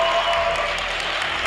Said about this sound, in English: Huge round of applause from his fans.